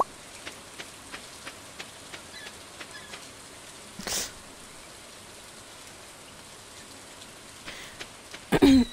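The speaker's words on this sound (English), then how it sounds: "The sound of Stardew Rain." Rain in the Stardew Valley video game falls as a soft, even patter with faint regular ticks. A brief louder burst comes midway, and a sharper noise sounds near the end.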